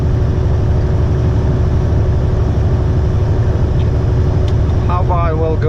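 Heavy haul truck engine drones steadily at cruising speed under a load, a loud constant low rumble with road noise and no break, and a brief chirping sound near the end.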